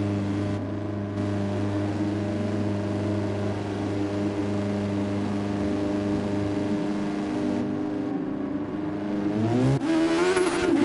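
A Dallara Super Formula race car with a Honda engine in GT Sport at Suzuka holds a steady high-pitched engine drone, then climbs sharply in pitch as it accelerates hard near the end.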